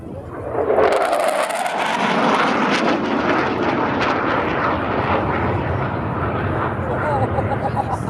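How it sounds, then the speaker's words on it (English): F-104 Starfighter jet flying past at a local air show, a loud sustained roaring engine rumble that rises quickly and stays strong throughout, with an announcer's voice heard over it. "I was at a local event where they would show off small planes and such."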